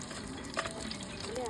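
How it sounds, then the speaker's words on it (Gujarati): Paneer tempering sizzles quietly in hot oil with chillies, a soft continuous frying hiss with light stirring noises, fairly faint throughout. "દોસ્તો આપણે પનીરનો વઘાર મારવાનું ચાલુ કરી દીધું છે"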